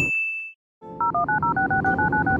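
Touch-tone dialing on an emergency phone in a Roblox airplane game: a short beep, a pause, then a quick run of about eight evenly spaced keypad tones, clear and close with no talking.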